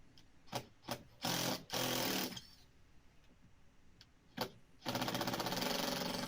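Several short bursts from a power tool backing screws out of deck boards, each a second or so long and fairly close, with a longer sustained run at the end and quiet gaps between.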